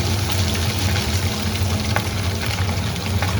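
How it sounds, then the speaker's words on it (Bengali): Cumin seeds temper in hot oil in a kadai over a strong gas flame, a dense continuous crackling sizzle, close and fairly loud, with a low steady hum beneath it. "জিরে ফোড়ন দিলাম"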